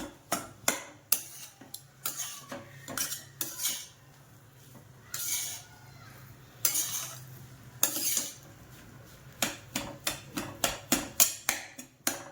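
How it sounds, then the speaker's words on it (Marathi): Boiled potato is mashed finely in a metal pot for bakery-style khari patties, with a run of sharp clinks and scraping taps from the masher against the pot, bursts of quicker strokes set apart by short pauses. "बटाटा चांगला बारीक करायचा आहे."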